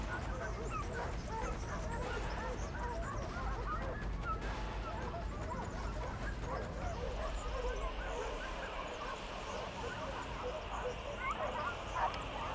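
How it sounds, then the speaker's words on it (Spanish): Pack of hunting dogs barking and yelping during a wild boar drive in Spanish scrubland, a continuous chorus of overlapping barks and yips from middle distance, steady throughout with a voice over it. "Mariano escucha las ladras cada vez más cerca"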